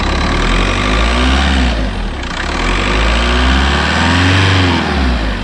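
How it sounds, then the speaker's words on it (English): A loud, close 1.9 TDI diesel engine in a Mk4 VW Golf Variant runs and revs up and down, rumbling steadily throughout. "I don't know if the EGR delete kit changes the sound of the engine"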